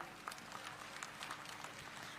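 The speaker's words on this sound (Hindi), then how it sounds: "हमारे सम्मानित कृषकों के लिए जोरदार तालियां बजाएं।" Audience applause at a progressive farmers' conference in a village, with a chief minister present; scattered claps ring out through a steady crowd wash, fairly faint and distant.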